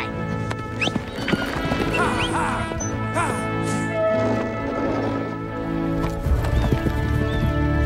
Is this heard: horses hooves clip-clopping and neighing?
yes